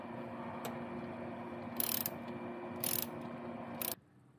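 Open-ended half-inch wrench working a nut on a Harley Street Bob softail brake pedal with forward controls, giving faint close metallic clicks and a few brief scraping bursts before stopping.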